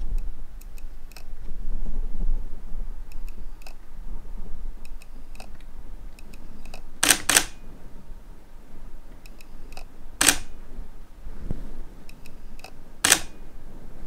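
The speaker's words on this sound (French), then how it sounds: "je veux essayer de vous faire entendre le bruit de mise au point" Samyang AF 85mm f1.4 lens mounted on a Sony camera, its autofocus motor making faint soft whirs and ticks, punctuated by several sharp, loud shutter clicks spaced a few seconds apart in a quiet room.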